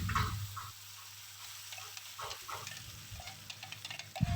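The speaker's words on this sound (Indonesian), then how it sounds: "Ditumis lagi sampai airnya habis" Blended red chili and tomato sauté in a pan for kupat glabet, a Central Javanese dish, giving soft crackling sizzles and occasional stirring scrapes, fairly quiet and close, with a louder scrape at the end.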